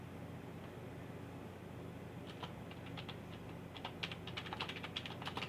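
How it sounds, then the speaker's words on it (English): Fast, light keystrokes on a computer keyboard, clicking faintly over a steady background hiss and gradually growing busier. "Yes, I type like this."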